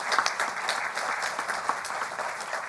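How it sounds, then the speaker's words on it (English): Audience applause for a panel discussion on Catholic-Jewish relations, steady and sustained clapping from a moderate-sized crowd throughout, at a modest distance with no talking. "So just one more time, if we could just give applause for this wonderful panel."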